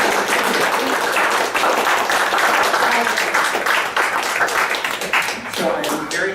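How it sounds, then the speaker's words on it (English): Audience applause closing a gallery lecture at Sanders Galleries: dense, steady clapping from a room of listeners that holds for several seconds, with voices mixed in beneath it. "I think we all applaud her"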